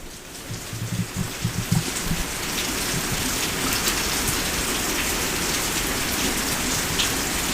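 Steady, dense downpour drumming on surfaces with a constant hiss, a few low rumbles early on, no voices.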